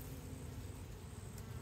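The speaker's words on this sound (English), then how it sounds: "Definitely, when I broke that, heard some buzzing." Honey bees in an opened top bar hive give off a faint, steady buzzing hum, quiet and even throughout.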